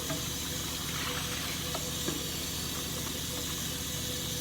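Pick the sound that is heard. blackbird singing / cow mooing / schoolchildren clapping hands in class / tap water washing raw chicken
tap water washing raw chicken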